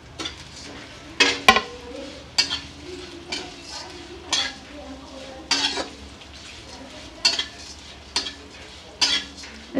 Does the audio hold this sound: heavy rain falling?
no